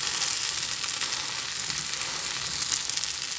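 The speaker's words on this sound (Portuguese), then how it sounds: "à medida que ele vai fritando aqui, ó, ele vai ficando molinho" Day-old bread frying in a pan gives off a steady, close sizzle with fine crackling hiss throughout, no talking.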